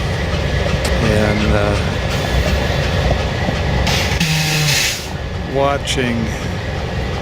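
A train rumbles past on railroad tracks in Winslow, Arizona, with steady rail noise and brief wheel squeals, while someone speaks briefly over it.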